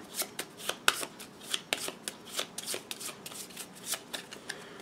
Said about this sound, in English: take these cards that have already been flipped over and shuffle them up.